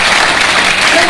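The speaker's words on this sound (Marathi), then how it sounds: "तुम्हीच टाळ्या वाजवायचे माझ्या पालकांसाठी." Audience at a school event claps for the students' parents, a loud, dense burst of many hands close by, steady across its brief length with a faint voice mixed in.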